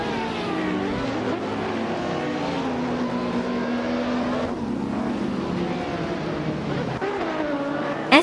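Several race cars, including a 1986 BMW M3 on pole, roar off the line in a racing video game, with a dense layered engine drone rising in pitch continuously for about eight seconds.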